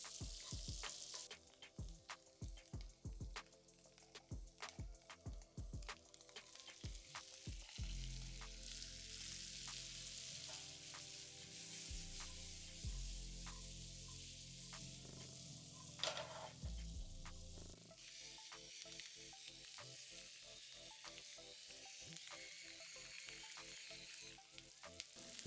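Shallots, garlic paste and vegetables sizzle steadily in butter and olive oil for a sofrito, with loud, continuous frying broken by clacks and scrapes of stirring, growing denser once the vegetables go in.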